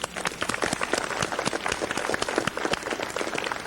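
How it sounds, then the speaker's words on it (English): A developer audience at Apple's WWDC 1997 conference applauds, a steady, dense patter of many hands clapping at moderate volume throughout, with no voices over it. "Round of applause for Vitas."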